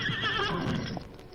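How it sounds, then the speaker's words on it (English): A jet-black horse lets out a single drawn-out whinny, moderately close and clear, fading toward the end with no talking over it. "Thunder, a jet black horse with beautiful lines"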